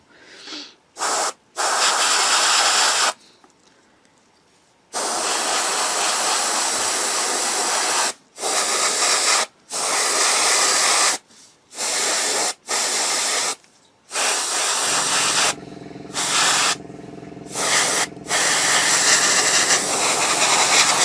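Bursts of airbrush spray hiss on and off in short, repeated blasts while testing airflow for painting a 1/35 scale model tank, with a steadier stretch of hissing near the end.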